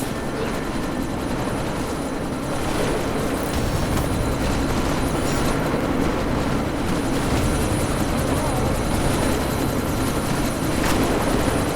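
A helicopter in Deus Ex: Mankind Divided drones with continuous rotor thrum and engine roar amid a sandstorm, steady and loud for the whole stretch, with no voices.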